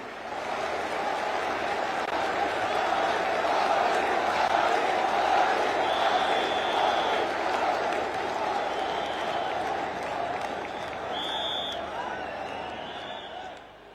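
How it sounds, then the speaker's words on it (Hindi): A large crowd at the Mahakal Lok event claps and cheers steadily to welcome Prime Minister Narendra Modi, a dense sustained roar of applause with occasional whistles near the end. "बजाइए ताली और बुलाइए माननीय प्रधानमंत्री जी को।"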